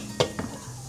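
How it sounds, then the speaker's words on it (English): A lid set onto a cooking pot at the end of cooking on the stove, a quick metallic clack followed by a softer second tap, close and brief. "Dinner is done, so we're gonna put a lid on it"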